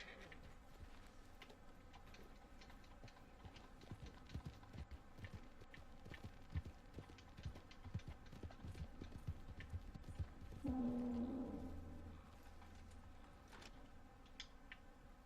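Video game horse trotting with steady rhythmic hoof clip-clops, fairly quiet and continuous against a faint ambient background, no talking.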